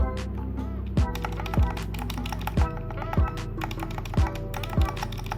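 Keys clack on a 1st Player MK980 mechanical keyboard with factory-lubed Gateron switches, Palm Rainbow stabilizers and mute cotton inside: a slow run of about ten separate, close, fairly soft keystrokes at even spacing.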